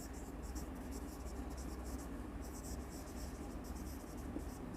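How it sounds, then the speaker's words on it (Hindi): Chalk or marker scratching out the words "general reserve" on a classroom board, a steady run of short strokes with small pauses, close and fairly faint over constant room noise. "मैं यहाँ पर जनरल रिजर्व लिख देती हूँ।"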